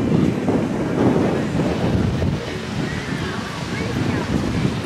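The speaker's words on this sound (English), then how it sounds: "Yeah, the wind is blowing." Wind gusting over a beach on Isla Mujeres, Mexico, buffeting the microphone in a steady low roar with surf-like rumble throughout, loud and continuous with no clear speech.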